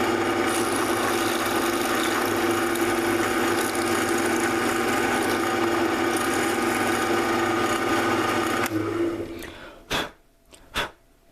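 A set screw hole for a Graflex red button is enlarged to 8-32 size with a steady, loud grinding drone for about nine seconds, then it stops and a couple of sharp knocks follow.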